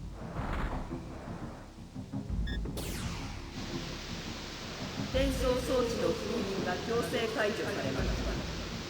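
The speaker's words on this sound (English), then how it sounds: "And a new spell. Berserk Storm." Thunder effect of the Berserk Storm spell in a video game: a sudden crack followed by a broad, rumbling roar that swells and lingers, close and loud, over game sounds and talk.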